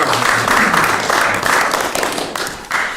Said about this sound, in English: With a clap.